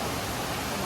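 Water pours down at Urakuzhi waterfall, a dense, steady hiss and roar of falling water, close and even throughout a brief moment with no pauses.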